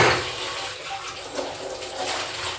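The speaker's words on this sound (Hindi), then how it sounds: "जार को धो देते हैं" Tap water runs steadily into a kitchen sink while a jar is rinsed, a close, continuous splashing rush with small fluctuations and no voices.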